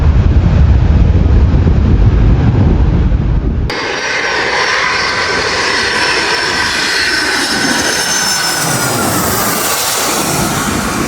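A private jet passes at an airport, its broad engine roar holding steady and loud after an abrupt cut, with a high whine running across the whole pass and no talking.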